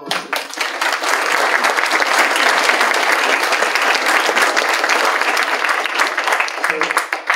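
An audience at a judicial procession and state-of-the-circuit event gives the judges a sustained round of applause, dense, loud clapping filling the room steadily for several seconds before tapering, with some voices mixed in.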